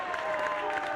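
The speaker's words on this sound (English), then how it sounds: "Give them a good round of applause" Applause from fans at a high school boys basketball game between Middleburg and Williams Valley. The clapping is dense and steady and carries a faint crowd murmur behind it.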